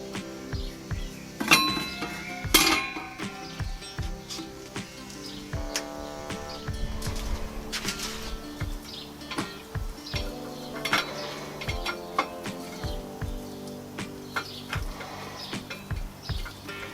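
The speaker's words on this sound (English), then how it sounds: "Put our grill grate on." Metal grill grate set onto a Lidl mini kamado barbecue, giving a couple of sharp metallic clinks and rattles early on, then lighter scrapes and taps with birds chirping faintly outdoors.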